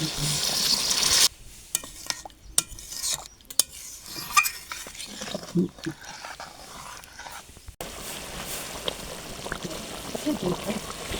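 Hot water poured onto sautéed duck meat in a pan sets off a burst of sizzling and bubbling, with stirring clatter and utensil knocks, close and fairly loud, and a voice talking over parts of it.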